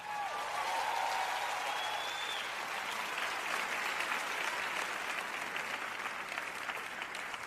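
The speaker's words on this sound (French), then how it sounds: "Allez, applaudissez plus fort que ça." An audience in a sermon hall claps in a dense, sustained burst of applause that holds steady and fairly loud throughout, with no voice over it.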